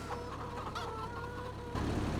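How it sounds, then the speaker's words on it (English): Chickens in a breeding pen in the Farming Simulator video game cluck and murmur softly over a steady low ambient hum, with a few brief squawks and no speech. "Coming over here to check these chickens here quickly."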